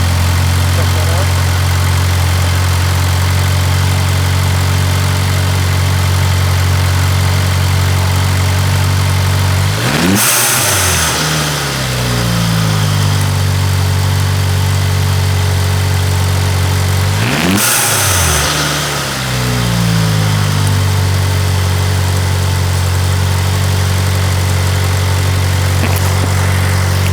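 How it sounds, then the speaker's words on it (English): A cold Jeep engine idles steadily, heard from inside the engine bay next to an SMB air filter. A deep, loud drone runs throughout, broken by two sharp revs with whooshing bursts from the blow-off valve and intake. "I just started the Jeep. I'm going to leave the mic in the engine bay on top of the SMB air filter."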